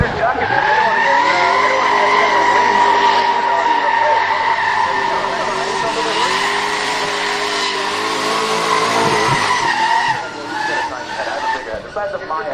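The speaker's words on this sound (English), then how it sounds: "White light GTR, rocking a couple burnouts there." A white modified GTR sports car does burnouts, its tires screeching in a loud, sustained skid over a steady engine roar. The sound is close and continuous, with the engine and squeal easing off near the end.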